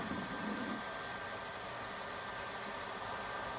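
The cooling fan of an Anjeet 800W COB LED grow light gives a steady, loud broadband whoosh, with a faint tonal whine and no talk.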